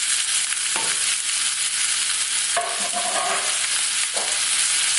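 Pork ribs fry in their own fat in a pan, a loud, steady sizzle that fills the whole stretch, broken by a few scraping stirs of a utensil, with no talk.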